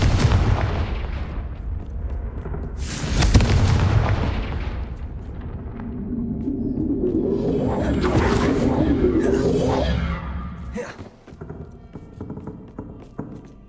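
Confringo spell blasts boom and crackle in Hogwarts Legacy amid spell-casting effects and game sounds. A loud impact stands out early and a longer rumbling blast builds in the middle. Voices are heard in the game.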